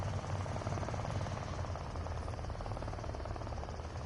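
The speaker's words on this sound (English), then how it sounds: "Oh, helicopter." A helicopter flies in Deadside, a continuous droning rotor chop with a steady buzzing engine, loud and even throughout with no talking.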